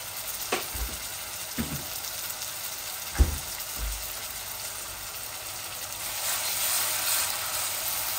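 Fresh ginger and garlic frying in a pan, a steady close sizzle with a few soft knocks and stirring clatters, growing slightly louder toward the end.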